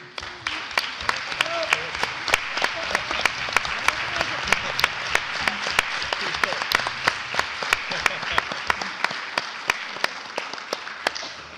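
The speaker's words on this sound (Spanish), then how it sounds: "Yo pido un aplauso." An audience claps steadily through a university round-table session on cognitive capitalism, the applause dense and sustained with regular sharp hand strikes standing out above the crowd's patter, near and loud, with faint voices underneath.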